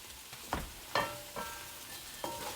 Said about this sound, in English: We're gonna saute some onions and peppers to go with our mixture, to go with our turkey.